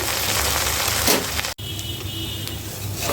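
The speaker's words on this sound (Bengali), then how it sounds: "মাছগুলো একটু কড়া করে ভেজে নিয়েছি" Pabda fish frying crisp in a pan of hot oil, giving a dense, close, continuous sizzle with a brief break partway through.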